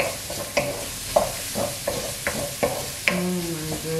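Onions fry in a pan for carbonara, scraped and stirred with a utensil in irregular close knocks and scrapes over a soft sizzle, with no talk.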